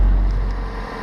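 A 2000 Saturn SL1 engine revs briefly with a low, steady rumble close by, easing down slightly toward the end.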